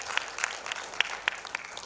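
A stage-event audience claps for a judge at a grand finale, a brief patter of scattered handclaps at moderate distance, fairly light and even.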